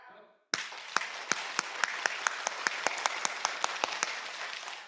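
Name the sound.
congregation clapping during a clapping prayer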